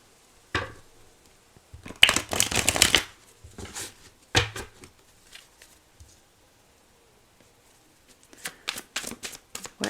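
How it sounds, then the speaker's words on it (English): A deck of tarot cards is shuffled in several short riffling bursts with pauses between, close and crisp, with no talking over it. "Let's shuffle again,"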